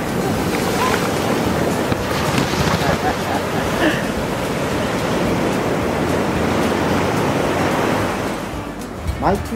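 Waves wash against a sandy shore at Patar Beach, Bolinao, Pangasinan, in a steady, rushing roar, with wind buffeting the microphone and no clear voices.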